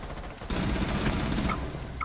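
Rifle fire from a DMR in a video game: a sharp, sustained burst of shots starts abruptly about half a second in and keeps up loudly to the end, with a few brief higher pings.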